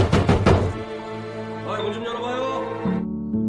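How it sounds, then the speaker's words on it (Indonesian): Knocking on an apartment door in a film: a quick cluster of loud knocks at the start, then sustained music tones with no knocking. "tiba-tiba seseorang mengetuk pintu kamar apartemen itu"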